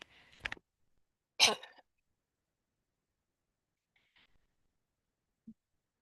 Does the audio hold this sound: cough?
yes